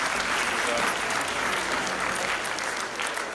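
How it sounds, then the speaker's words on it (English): Audience at an educational conference in Freetown applauding for a student: steady, full clapping from many hands, continuous and fairly close throughout. "clap for him, please."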